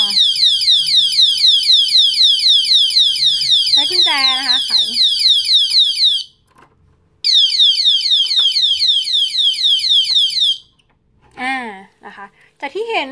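A disc brake lock's built-in anti-theft alarm siren wails loudly and close in rapid, repeating warbling sweeps, pausing briefly at about six seconds before resuming, then cutting off as someone speaks.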